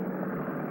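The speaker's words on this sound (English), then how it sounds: "Helicopter." Helicopter rotors drone steadily as a continuous, fairly loud mechanical hum with no voices over it.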